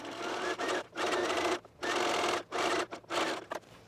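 A sewing machine runs a zigzag stitch along a dress hem, with four loud whirring bursts of rapid needle chatter separated by short pauses, close and clear with no talk.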